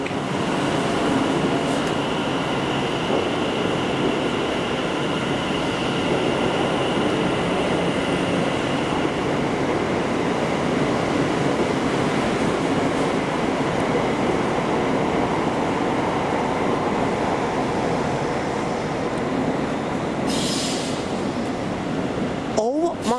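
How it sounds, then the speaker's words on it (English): Station ambience at London Euston with an Avanti Class 805 train, a continuous rumbling mechanical drone with a brief higher squeal near the end, people talking over it. "we got one of the new Avanti 805s"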